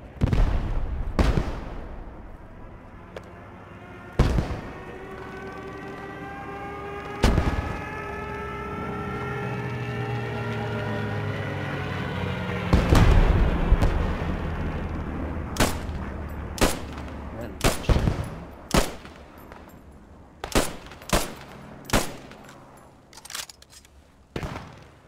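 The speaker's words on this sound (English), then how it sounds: "Where are you shooting at, Chumly?" Gunfire in the military shooter game Post Scriptum: loud sharp single shots ring out at irregular intervals, then a quick cluster of cracks near the end, over a low rumbling battlefield backdrop with a rising whine in between.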